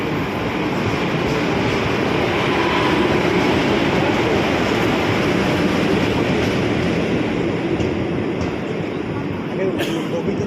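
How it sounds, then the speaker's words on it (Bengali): A passenger train pulls into a railway platform before dawn on the Siliguri to Benares route, making a continuous loud rumbling roar with rail noise that stays steady throughout, and voices blend into the din. "এই দেখো ফাইনালি আমাদের ট্রেন আসলো"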